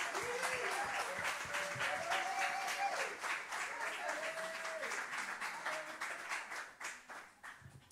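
A church congregation applauds and cheers for a stretch, dense clapping that fades toward the end, with a voice and sustained music notes running underneath.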